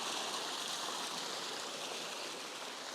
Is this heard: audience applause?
no